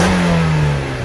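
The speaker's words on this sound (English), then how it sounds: "they acoustically tuned the exhaust to sound like a sports car" A stock exhaust on a Mazda Miata NA revs steadily, its tone sliding slightly lower over about a second, loud and close with no voices.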